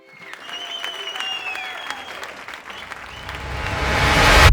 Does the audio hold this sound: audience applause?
yes